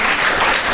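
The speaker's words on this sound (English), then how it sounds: "So there is a big round of applause for 5th and 6th standard students." Applause for 5th and 6th standard students at a school speech competition, a dense, continuous patter of many hands clapping, loud and close for the whole short stretch.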